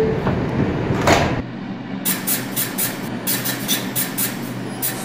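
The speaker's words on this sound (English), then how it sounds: "Stand clear of the closing doors" R142 subway train doors in the OpenBVE simulator slide shut with a brief whoosh and thud, then a repeating chime sounds over the low rumble of the idling train.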